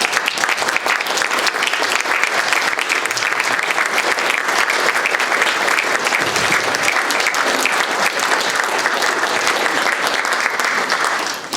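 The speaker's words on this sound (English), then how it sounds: "just please stand up and collect your applause" Steady, dense applause from an audience at an awards presentation, loud and continuous throughout with no talking over it, as committee members and governors stand to be recognised.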